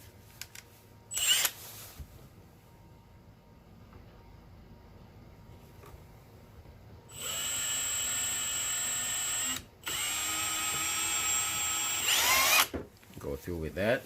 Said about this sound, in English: I'm going to drill that on the center